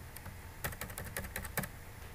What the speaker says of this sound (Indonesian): Kemudian di sini ketik